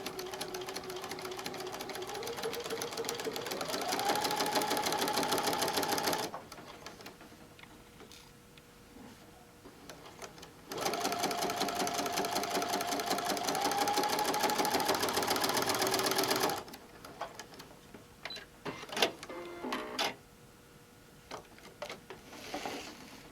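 A domestic sewing machine driven by foot control stitches a quilt-as-you-go tote bag, running in two long steady bursts that rise in pitch as speed builds, separated by quieter pauses with light handling clicks.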